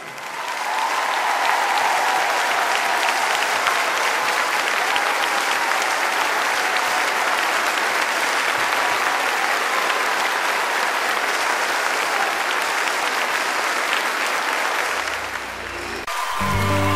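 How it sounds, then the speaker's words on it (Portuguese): A big audience gives steady, loud applause for Michel Jourdan, a guest who came over from Paris, sustained for about fifteen seconds before fading as music begins. "Um grande aplauso para o Michel Jourdan."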